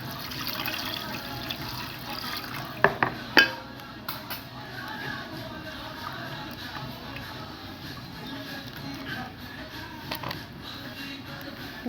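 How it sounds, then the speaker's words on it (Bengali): Water poured into a pot of Bengali fish curry on the stove, a steady liquid wash with a few clinks of the pot near the start, heard close up. "দিয়ে দেবো পরিমাণ মতন জল।"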